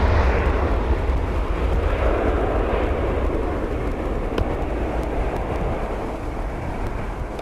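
An EasyJet airliner at Manchester Airport roars steadily with loud, continuous jet engine noise that slowly fades slightly, mixed with wind buffeting on the microphone.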